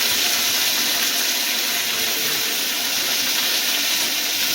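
Cut green beans and curry leaves fry in a hot pan, giving a loud, dense, unbroken sizzling hiss that stays even throughout with no one speaking.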